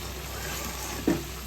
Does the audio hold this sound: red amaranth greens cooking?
yes